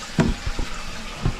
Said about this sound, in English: let's turn the water back on.